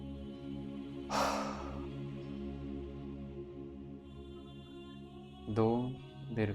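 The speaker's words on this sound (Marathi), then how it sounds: "नाकाने दीर्घ श्वास घ्यायचा आहे व तोंडाने तो जोरात बाहेर फेकायचा आहे" A single forceful breath out through the mouth bursts briefly over a sustained soft musical drone during a guided breathing exercise, with a voice heard toward the end.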